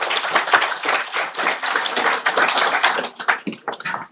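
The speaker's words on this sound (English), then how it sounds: "please join me in extending a warm and enthusiastic round of applause" An audience at a university open house gives a dense, sustained round of applause to welcome a speaker to the dais. The clapping is close and loud throughout.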